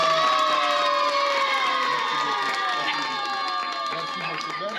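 A crowd at an outdoor village gathering cheers, shouts and claps, with children's voices prominent; the lively noise stays loud and dense throughout, with some talking mixed in.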